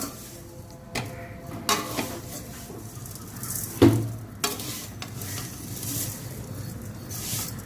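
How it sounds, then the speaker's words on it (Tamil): Vermicelli roasting in oil with a spoon stirring it, giving a soft steady sizzle broken by several scraping knocks against the pan, one louder clack near the middle, all close and without talk. "போட்ட பிறகு இதை நல்லா ப்ரௌன் கலரில் வர வரைக்கும் வறுத்து எடுத்துக்கலாம்"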